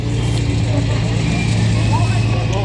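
A 1961 Plymouth Savoy four-door sedan's 225 slant six idles steadily up close, a loud continuous low engine drone with no clear revving.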